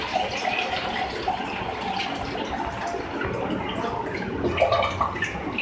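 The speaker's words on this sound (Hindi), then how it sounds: "मैं इसमें पानी ऐड कर रही हूँ।" Water pouring steadily into a pot of chickpeas, a continuous splashing and gurgling that swells briefly near the end.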